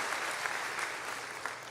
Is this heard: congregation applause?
yes